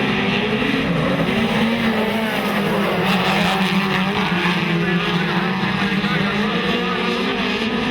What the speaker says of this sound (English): we're about to go back to green, and Walshy's on the gas